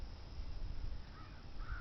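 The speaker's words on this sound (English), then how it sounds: "The birds flying by in the sky." Crows cawing as birds fly overhead, a couple of harsh caws rising above a rough outdoor wind-like background, moderately distant.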